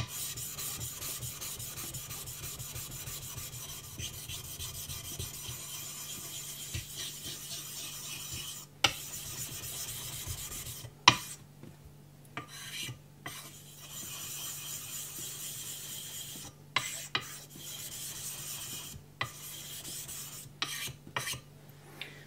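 A Naniwa Gouken Kuroto 1000-grit whetstone is rubbed to work up a slurry, giving a soft, steady gritty rasp that later breaks into short, irregular scraping strokes with brief pauses, close and fairly quiet.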